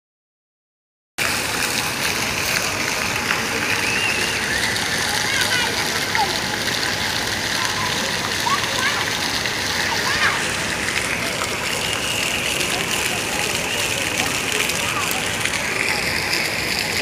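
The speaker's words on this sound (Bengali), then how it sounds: "এই যে এখন সামনে এখন ওয়াটার ফাউন্টেন দেখেছে, আর উনি চললেন জল ঘাঁটতে।" Water fountain in a Qatar shopping mall with a child splashing in it, a continuous rushing, sloshing wash of water with mall ambience and voices mixed in.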